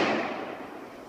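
A single loud gunshot goes off during a hog hunt, caught just after the crack as a broad booming report that fades away over about a second.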